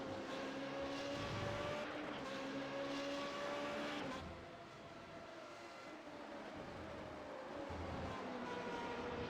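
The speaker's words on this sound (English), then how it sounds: "Herbignaw just locked in behind of Olsen as they're heading up the hill through the fast kink" Formula 3.5 race cars in the iRacing sim at Laguna Seca give a faint, steady engine drone with shifting pitch as they run up the hill, dipping briefly midway before rising again.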